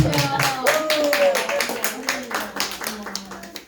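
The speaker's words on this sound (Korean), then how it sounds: "다니엘 박수 한번 하셔도 됩니다." Church congregation clapping together during a Korean worship service, rhythmic claps in steady succession close by, with tonal singing or a sustained voice running underneath.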